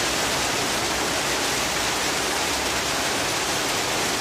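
Heavy rain pours down in a steady, loud, unbroken hiss, a dense broadband roar with no pauses and no voices, sounding close and enveloping throughout.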